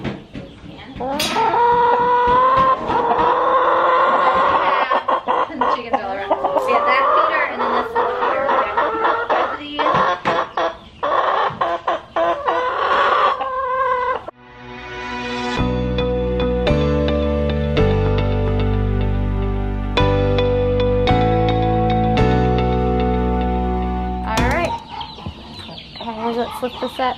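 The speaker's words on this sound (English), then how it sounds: "Chickens all around." Chickens cluck and squawk loudly and close on a farm during morning feeding chores, with a rooster-like call mixed in; partway through, a sustained musical passage with steady tones takes over beneath the birds.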